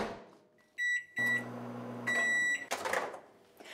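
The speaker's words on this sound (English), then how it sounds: "sometimes I place the block of butter inside the microwave so it'll soften up" A microwave oven heating a block of butter to soften it: two short electronic beeps, then a steady low hum that runs for over a second, followed by a clatter near the end, close by with no talk.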